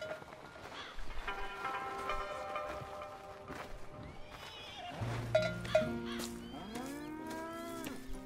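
Cattle low repeatedly at a ranch milking scene in Red Dead Redemption 2, the moos long and drawn out, some near and some farther off, with soft hoof and farm ambience and no talk.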